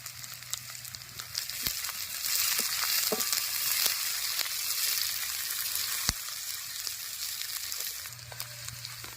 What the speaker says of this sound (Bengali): পেঁয়াজ রসুন শুকনো লঙ্কা সব ভাজা ভাজা হয়ে গেছে